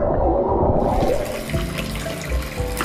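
Water splashes and pours onto compacted clay gathered for pottery, a steady close rushing flow with gurgling, running continuously without any voice.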